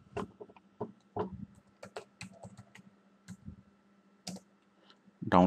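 Someone typing a Google search on a computer keyboard: irregular, close, crisp key clicks in short bursts with pauses, fairly quiet, with a voice starting at the very end.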